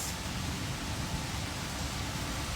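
Steady rain falling in Gurgaon, a dense even hiss that holds at a moderate level throughout with no voices.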